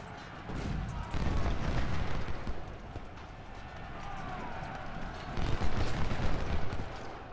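Musket volleys from troops in the Civil War strategy game Ultimate General: Civil War, with dense rolling gunfire and booms that swell twice against steady battle noise, with a voice talking over it.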